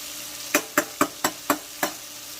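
A T-bone steak frying in a pan, heard as six sharp, evenly spaced crackling pops over a low background sizzle, close and fairly loud.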